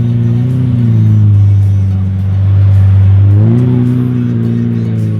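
A Lamborghini Murcielago rolls up at a car show, its engine a loud, deep steady drone that swells and eases slightly, dips, then rises again as the car moves close by.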